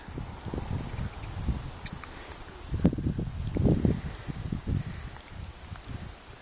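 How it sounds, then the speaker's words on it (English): Gusty wind rushing through tree foliage on an overcast day, with rustling leaves swelling and fading in waves, fairly close and steady with no voices. "it's windy today. The trees are moving quite violently."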